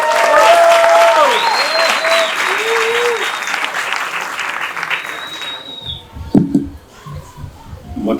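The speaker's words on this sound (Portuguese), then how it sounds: "Uma salva de palmas para Manuel!" An audience claps loudly for Manuel in a dense burst of applause that fades out after about six seconds, followed by scattered knocks and brief voices.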